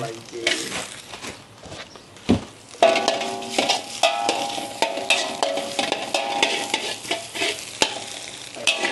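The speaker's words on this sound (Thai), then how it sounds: "เราต้องผัดเครื่องให้มันแห้งก่อนนะคะ" Spice paste stir-fried in a pan, a steady close sizzle with repeated scraping strokes of a utensil against the metal and occasional clinks, continuing throughout without talk.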